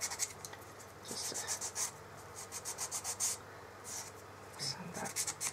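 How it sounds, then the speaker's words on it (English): Quiet rhythmic rasping strokes of sandpaper smoothing a trimmed wooden corner of a craft box, short repeated rubs in bursts, faint and close. "sand that down to make it smooth."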